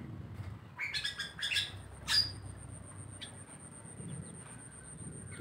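Small crossbred bulbul birds in an aviary chirp in a few quick, bright bursts close by over a low background hum, then things go mostly quiet.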